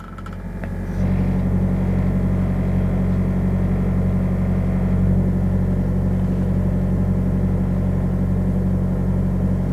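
A Carrier truck reefer unit heard inside the truck cabin, a steady, droning engine hum starting up in the first second and holding a constant low rumble with no talking.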